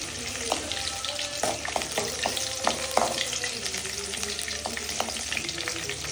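Dried chilies, mustard seeds and fenugreek fry in hot oil for a Tamil kuzhambu, giving a close, steady sizzle with crackles and pops as seeds burst, stirred occasionally.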